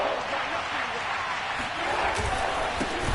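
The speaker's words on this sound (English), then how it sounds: "Here comes a big one as this crowd gets up making some noise." Crowd noise rises in a Madden football video game as the stadium fans stand up ahead of a third-and-short play, a broad, steady roar with scattered bursts, heard under commentary.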